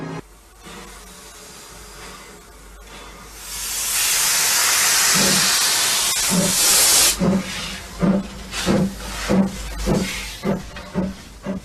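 A steam locomotive on the Isle of Wight releases a long, loud hiss of steam that swells and holds. Rhythmic chuffing puffs follow as the engine begins to pull away, with no voices.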